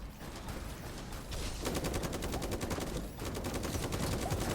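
Rapid automatic gunfire in the mech shooter game Super Mecha Champions, two long bursts of evenly spaced shots rattling over a steady background din, fairly loud with no talk.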